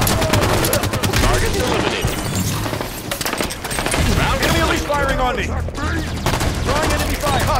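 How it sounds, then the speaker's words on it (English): Loud, dense automatic gunfire in the Halo 5 Warzone Firefight mode on the Temple map, rapid bursts layered with overlapping shots, impacts and clattering effects that carry on almost without pause, mixed with faint voices. "enemy firing on me"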